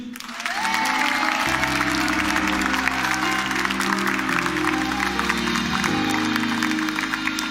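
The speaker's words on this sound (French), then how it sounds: "On peut les applaudir." A crowd applauds at a 30th anniversary celebration in Marseille honouring young musicians, a dense continuous wash of clapping that holds steady over low sustained musical tones.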